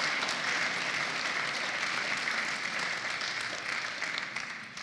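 An audience at an art exhibition opening at the Pesti Vigadó applauds in dense, steady clapping that stays loud throughout and fades a little at the end.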